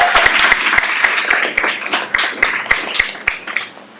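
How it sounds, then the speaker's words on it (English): Audience applause at a city assembly panel session, a dense, steady wash of many hands clapping with some sharper nearby claps standing out, lasting throughout. "Let's have a round of applause as we go."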